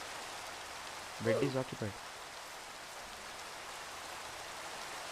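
Rain in Minecraft, a steady soft hiss of falling drops running throughout at low volume, with a short spoken phrase briefly over it.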